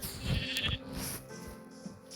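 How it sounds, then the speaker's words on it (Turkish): Sheep bleating in a video game, a couple of short nasal bleats near the start over a busy mix of game sounds, then fainter ambient noise. "Şurada iki tane koyun var."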